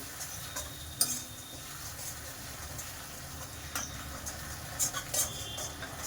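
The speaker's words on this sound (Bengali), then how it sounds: "1 চা চামচ মতন গোলমরিচের গুঁড়ো দিয়ে এটাকে ভালো করে মেশাতে হবে" Chicken and black pepper powder stirred in a pan over a low gas flame, a soft continuous sizzle broken by light ticking spatula taps and scrapes against the pan.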